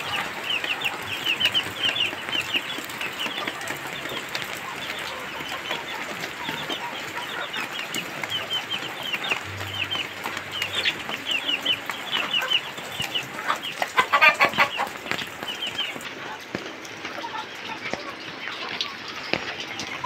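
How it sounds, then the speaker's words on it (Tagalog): Chickens and chicks cluck and peep steadily around coops on a farm, fairly quiet and continuous, with a brief faint voice in the background. "Kasi nandito na yung sisiw."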